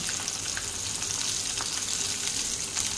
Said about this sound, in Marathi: त्यानंतर याच्यामध्ये आपल्याला बारीक कट केलेली शिमला मिरची आहे ती टाकून घ्यायची आहे।